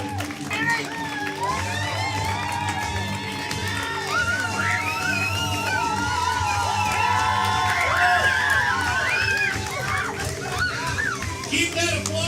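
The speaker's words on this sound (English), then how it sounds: "Keep that applause going as we announce your players to the stage" An audience at a live game-show event cheers, whoops and screams over steady clapping while music and voices play underneath, loud and continuous throughout.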